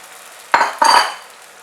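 Potato snack batter goes into hot oil in a kadai with two quick bursts of sizzling and a spoon clatter against the pan, then a faint fading hiss.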